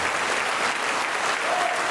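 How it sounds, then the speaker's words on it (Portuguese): A church congregation claps in sustained, dense applause that fills the space evenly throughout, with no break or voice rising above it. "E vamos aplaudir ao Senhor Jesus por cada vida que está chegando."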